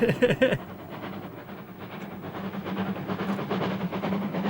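A train running on a railway line in Ulster, likely a diesel train, rumbles steadily with a low hum and rattling wagon noise. The sound is continuous and moderately loud, and a brief burst of speech opens it.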